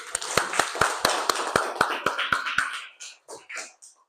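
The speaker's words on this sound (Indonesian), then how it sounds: "Ya, tepuk tangan dulu." A group of elementary school pupils claps together in a classroom. About ten sharp claps come in a steady, even beat, then fade into a few scattered, softer claps.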